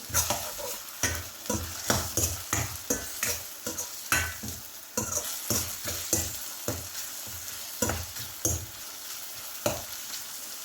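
Chopped tomato sautéing in a pan for a home-style curry, with loud repeated stirring scrapes in a steady rhythm over a continuous close sizzle; no voices.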